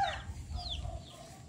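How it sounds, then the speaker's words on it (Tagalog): Several free-range chickens cluck and murmur softly nearby, their calls overlapping in a gentle, continuous outdoor chatter with no talking. "Dito, pinapa kawalan ang mga manok."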